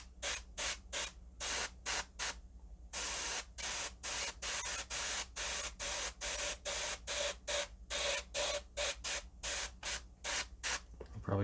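Short rhythmic bursts of spray paint hissing close by as a model kit is coated, about two dozen quick even pulses in a steady pattern with no talking.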